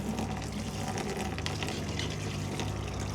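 Water poured into a plastic mixing bucket holding three 5-kilogram bags of Rock-Tite flow grout powder, a steady continuous gushing pour lasting the whole moment, close and fairly loud with no talking.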